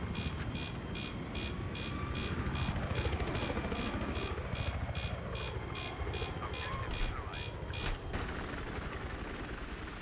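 Helicopters in a video game thump with rapid rotor chop over engine whine, passing and shifting in pitch over about ten seconds, loud and continuous, with a sharp burst near the end.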